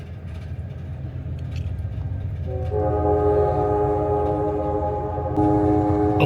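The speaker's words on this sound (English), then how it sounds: "as we let people on here at the Springfield, Illinois train station." The Texas Eagle passenger train idles at the Springfield, Illinois station with a low steady rumble, then sustained horn-like tones swell in partway through and hold to the end, close and fairly loud.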